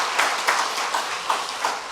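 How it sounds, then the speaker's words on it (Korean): Church congregation applauding during a Friday worship service, a steady patter of many hands clapping together at moderate volume with no talk over it. "박수 한번 합시다."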